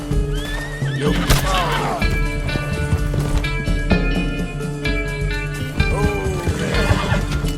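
Loud horse whinnies ring out twice over galloping hoofbeats in Red Dead Redemption, with music and sound effects layered underneath.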